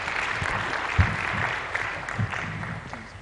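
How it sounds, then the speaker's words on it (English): Audience applause at the close of a lecture at a mathematics conference, a steady patter of many hands clapping at moderate volume with a few louder claps standing out. "Give an applause."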